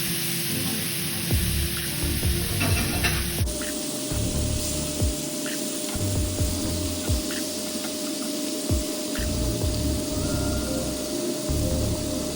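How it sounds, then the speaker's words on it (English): Shrimp frying in a pan that still holds juices from cooked chicken, a steady loud sizzle and spitting hiss that runs the whole time with small crackles and no talking. "now we're just gonna cook up our shrimps using that same pan we cooked the chicken in"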